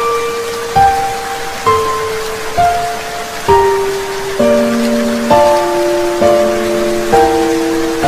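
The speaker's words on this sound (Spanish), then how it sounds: "Está lloviendo." Steady rain hisses throughout beneath a slow melody of sustained notes that changes pitch every second or so.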